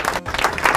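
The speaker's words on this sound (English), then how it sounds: "You get applause for training your employees so well." A short burst of applause from a group, a brief dense patter of clapping hands at moderate level, heard alone without talk.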